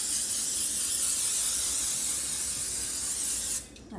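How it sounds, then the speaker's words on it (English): Cooking spray hissing from an aerosol can onto baking pans, a steady close spray lasting over three seconds before it stops. "spray our pans"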